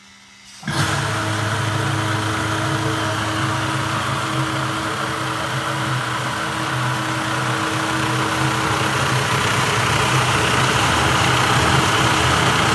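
An automated keg and fermenter washer fills its kettle with water: a loud, steady rushing roar with a motor-like hum starts abruptly near the beginning and holds evenly throughout.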